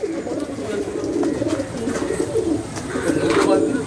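Pigeons in a Madrasi pigeon loft at Ichhapur, Kolkata, coo in soft repeated throaty bursts close by, layered over one another while a person talks in the background.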